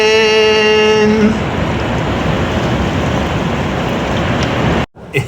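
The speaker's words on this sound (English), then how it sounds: "And look at the rain." Rain pours in Turkey, a loud, steady hiss of drops splashing on nearby surfaces that continues without a break after a short tonal sound at the start.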